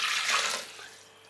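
One cup of water pours into a blender holding soaked ingredients for vegan melting cheese, a steady splashing rush that fades over a second or so, with no talk.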